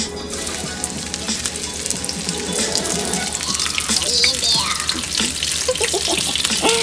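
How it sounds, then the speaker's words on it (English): Hot oil pops and sizzles while shrimp cakes fry, a continuous close crackle with scattered sharp pops, and a voice speaks briefly over it. "The oil is popping."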